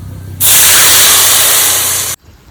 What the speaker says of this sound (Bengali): তেঁতুলটা জলে গুলিয়ে নিয়েছি তেঁতুলের জলটা দিয়ে দেবো